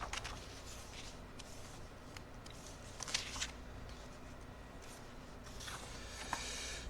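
Marvel Champions game cards are shuffled close up, with bursts of riffling and sliding between quieter handling, faint and with no talk.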